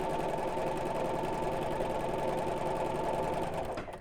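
A sewing machine without a zipper foot runs steadily at an even, rapid stitching rhythm down zip tape, a close mechanical whir that winds down and stops at the end.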